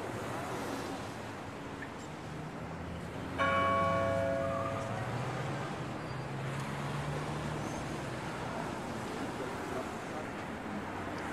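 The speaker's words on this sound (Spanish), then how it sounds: "¡El Big Ben está sonando!" A single chime of Big Ben rings out in a Peppa Pig video game, a harmonic bell tone over steady background game ambience and music, fading after about a second.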